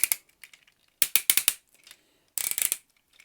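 A metal Cardbot toy robot has its arms and legs folded, producing sharp, close plastic-and-metal clicks and ratcheting snaps in three quick bursts separated by short silences.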